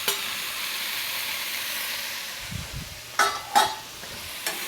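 Pineapple cooking in a hot pan for pork chop fried rice, with a steady sizzle and a few sharp clinks and scrapes from stirring near the end.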